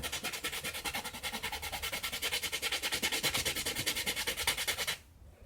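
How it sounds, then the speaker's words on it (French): Tip of a Shengshou Pyraminx puzzle piece being rubbed back and forth on sandpaper, a close, rapid, even rasping scrub of about ten strokes per second that stops abruptly near the end. "Et puis on frotte comme ça la pointe sur le papier."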